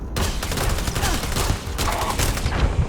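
Rapid weapon fire in Starfield, a dense, steady stream of loud shots running without pause for the full length, close and dominant with no talk over it.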